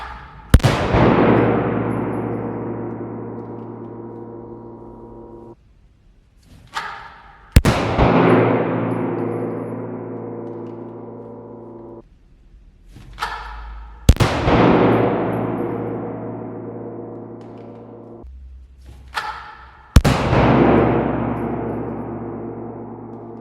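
Four loud gunshots fired roughly six seconds apart during a concealment shooting test with the Neomag Alias system, each a booming blast with a long ringing decay and softer handling noises in between.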